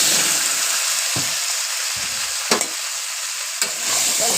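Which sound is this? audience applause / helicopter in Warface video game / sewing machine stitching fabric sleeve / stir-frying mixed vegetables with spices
stir-frying mixed vegetables with spices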